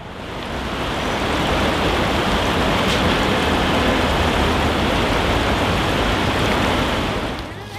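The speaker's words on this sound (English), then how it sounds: "Let the Bronx River water flow and make noise in the midst of silence." Water of the Bronx River flowing, a loud, continuous broadband rush with no breaks, swelling in at the start and easing off near the end.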